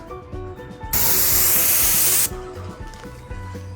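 A sprayer shoots stain onto the corner of a wooden deck in one steady hiss lasting more than a second, loud and close over a low background hum.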